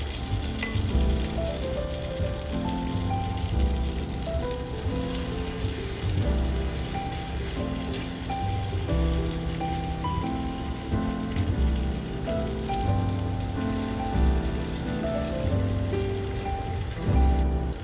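Salmon patties fry in hot butter in a pan, giving a loud, steady, close sizzle with crackling spatter that runs unbroken throughout.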